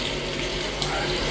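Running water from a tap pours over electric shaver heads as they are rinsed, a steady close hissing splash that continues without pause throughout.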